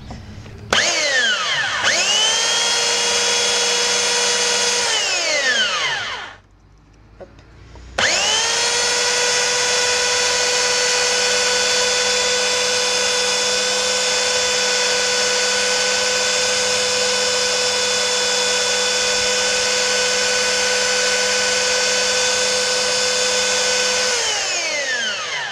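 An electric power tool spins up, briefly stops and restarts, then runs at a steady high-pitched whine for about twenty seconds while sanding small wooden parts for a military diorama, loud and close before winding down.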